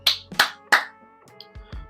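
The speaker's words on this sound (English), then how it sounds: "3 claps for the chapter." Three sharp hand claps in quick succession, evenly spaced and close, followed by a couple of faint softer knocks.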